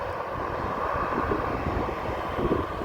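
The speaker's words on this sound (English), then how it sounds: "Boeing 737" A Boeing 737 taking off at Amsterdam airport, a steady broadband jet-engine roar held at constant loudness throughout, with some wind noise on the microphone.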